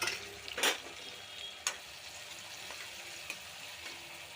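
Onion and green chillies fry in oil for a paneer gongura curry, a soft steady sizzle broken by a few sharp scrapes or stirs near the start and fainter ones later; no one speaks.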